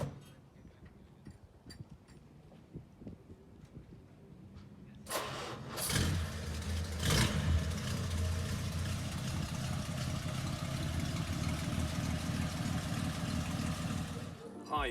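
A 1936 Hudson Series 63 six-cylinder car cranks and catches after some quiet clicking and ticking, then settles into a steady, fairly loud idle that runs to the end.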